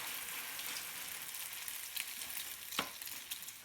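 Latkes fry in a pan of hot oil with a steady, close crackling sizzle and a few sharper pops near the end. No one speaks.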